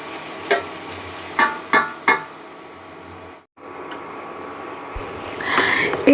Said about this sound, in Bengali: হালকা হালকা করে নাড়তে থাকবো বারে বারে, আর ঢাকা দিয়ে দিয়ে কষতে থাকবো।